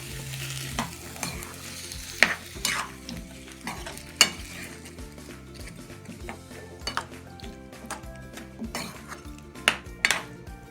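Marinated vegetables for veg dum biryani are stirred in a pot, with a spoon scraping and clinking against the metal in irregular strokes over a soft sizzle, close and without talk.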